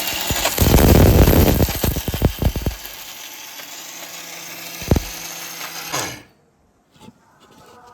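Blender whirring through baby food ingredients with flattened rice (chira), loud and steady for a few seconds, then several short pulsing bursts before the motor cuts off, followed by quiet clinks.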